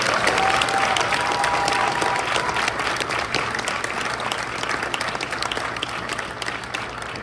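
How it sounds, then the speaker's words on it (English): Audience at a school winter concert applauds sixth grade performers, a dense, steady wash of clapping filling the room from start to finish with no talking. "6th graders, round of applause for them."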